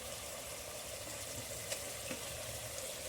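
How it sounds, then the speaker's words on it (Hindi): Soya methi is added to minced keema browning in a pan over high heat, making a continuous even sizzle and crackle up close, with no talk. "पाव भर सोया मेथी था, कीमे में डाल दिया।"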